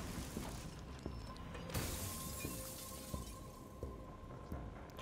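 Fake glass shattering in the video game Evil West, a brief crash near the start of a quiet stretch followed by faint clicking mechanical ticks and low game ambience.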